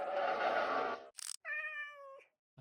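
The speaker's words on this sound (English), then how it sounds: "That was a cat, I think." A Minecraft cat meows in a hardcore survival game: a noisy burst, a short sharp blip, then one clear drawn-out tonal meow, close and fairly loud, ending in quiet.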